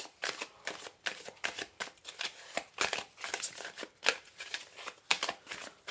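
Lenormand cards shuffled by hand for a tarot-style reading, giving a steady run of quick, close papery riffles and flicks in repeated bursts over several seconds.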